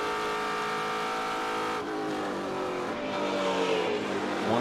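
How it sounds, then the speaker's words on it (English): Race car engine screaming at high revs around Virginia International Raceway during a SpeedTour event, a loud sustained roar that shifts pitch as the car changes gear and passes, with no talk over it. "The car sounds amazing with Matos."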